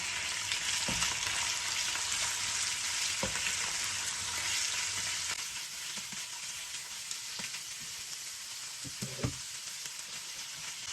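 Squid sizzles steadily in hot oil in a wok, a dense, close crackling hiss that runs the whole time, with a few sharp clicks of stirring breaking through now and then.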